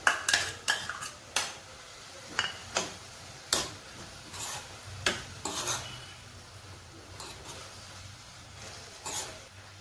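Cabbage going into a pan and being stirred, heard as sharp scattered clinks and taps of a utensil against cookware, with a faint background sizzle and no talking.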